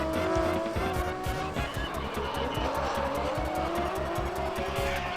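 Drift cars at a Lone Star Drift competition round slide through a handbrake corner entry, engines roaring with a rapid pulsing beat while tires squeal and skid continuously for several seconds, loud and close, with no voices.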